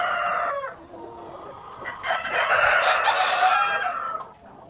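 Australorp chickens and roosters on a poultry farm, a rooster crowing loudly over steady clucking from the flock, with a second rising crow near the end.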